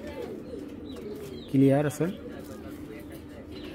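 A Lal Moshal hen pigeon, a red Moshal with a crest, gives a short coo of about half a second, close and clear, between stretches of nearby talk.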